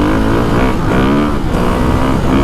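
A Ducati 450 Desmo 450MX motorcycle engine in dynamic map revs loud and close, a dense continuous roar with brief throttle swells and no talking.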